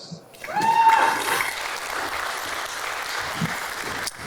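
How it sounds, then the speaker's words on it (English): An audience applauds at a presentation on nuclear waste handling, a moderate, diffuse clapping that swells early and then holds steady before cutting off. "let's give a round of applause for them"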